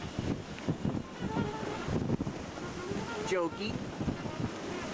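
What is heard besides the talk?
wind and waves while sailing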